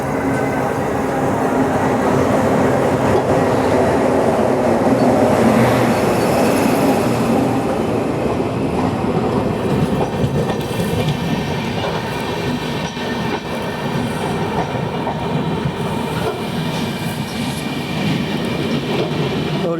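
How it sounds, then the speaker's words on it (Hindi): Maharashtra Express train rolling in on the rails, a loud continuous rumble of wagons with rhythmic wheel clatter and faint squeals, heard close by for a long stretch. "और यहाँ पे आ चुकी है महाराष्ट्र एक्सप्रेस"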